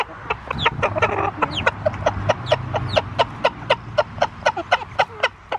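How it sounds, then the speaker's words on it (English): Chickens and a rooster cluck in a rapid, steady run of sharp calls at close range during a farm feeding time, with a low hum of other activity beneath. "I think this is a rooster."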